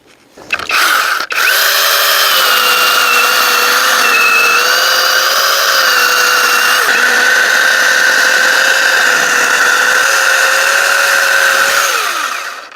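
A chainsaw runs loud and steady at high revs for several seconds, whining as it bites through thick apple tree wood, then winds down at the end.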